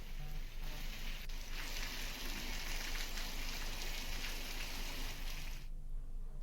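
Heavy rain pours steadily over farmland in the Kanda area, a dense even hiss of drops that holds at a constant level throughout, with no voices.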